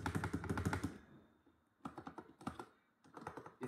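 Rapid clattering keystrokes on an MK1200 mini mechanical keyboard come in two close bursts of typing separated by a short pause, crisp and near.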